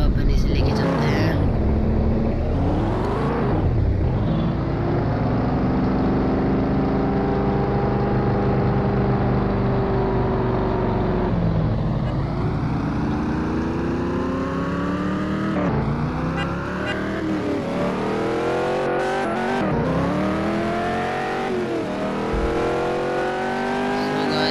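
A Lamborghini Urus drives in a video game, its engine tone sweeping up and down through gear changes and revs steadily throughout, loud and continuous with a voice talking over it at times.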